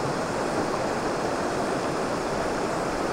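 A side stream joins a river below rapids in the Te Urewera backcountry, giving a steady, close, full rush of flowing water with no pauses.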